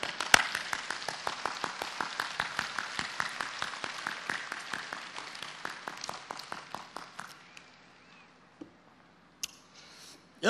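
An audience at a religious speech event claps in a steady, rhythmic unison beat, loud at first and slowly thinning before fading out into near silence with a few stray claps.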